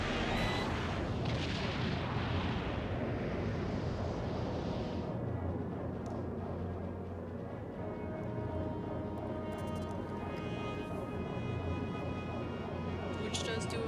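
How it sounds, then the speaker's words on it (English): Heavy cannon blasts boom from the Hydra cannon in the Skies of Arcadia Legends video game, a dense burst of explosive firing that fades into ringing tones and softer game effects. "he's also using his Hydra cannon"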